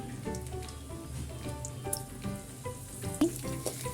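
Garlic and black pepper drop into about two tablespoons of hot oil and fry with a close, crackling sizzle, punctuated by small pops and a brief clink.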